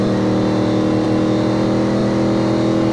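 An Android car game's engine roars loud and steady as the car spins its tires, a constant droning rev with no talking over it.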